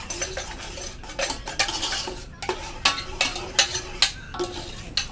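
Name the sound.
stirring tomato gravy for pav bhaji in pan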